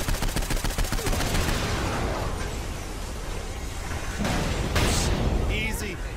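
Rapid SMG gunfire in the video game Saints Row 4, a loud sustained burst of closely spaced shots at the start giving way to dense battle noise and scattered further blasts.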